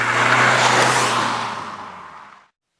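2014 Kia Optima with a 1.7 CRDI diesel engine driving, a broad rushing road and engine noise that fades steadily and ends abruptly.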